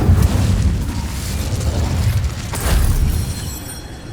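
The Incendio fire spell is cast in Hogwarts Legacy as a loud, rumbling burst of flame with a dense roaring whoosh, swelling again briefly before fading.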